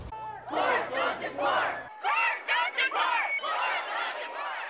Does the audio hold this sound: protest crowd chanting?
yes